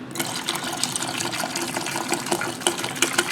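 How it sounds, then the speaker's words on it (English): Dr. Pepper poured into a venison marinade mixing container makes a steady, close splashing gush of liquid with fizzy crackle throughout, no talk. "Now get Dr. Pepper, pour that in here."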